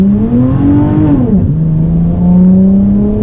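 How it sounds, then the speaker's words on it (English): A V6 Dodge Challenger on Jeep Grand Cherokee SRT tires accelerates hard and close, its engine note climbing through first gear, dipping sharply at the shift, then rising again in second. "All through first gear, it hooked, but the second it shifted to second, it felt like the car just falls on its face"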